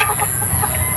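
Young white kelso gamecock stags cluck in a busy pen, a dense overlapping chorus of short calls set against a constant loud hiss of background noise.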